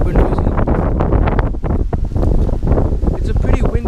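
Gusty wind buffets the microphone outdoors on a windy day, a loud continuous rumble with surging bursts that nearly drowns out everything else, near a row of running Goodman HVAC units.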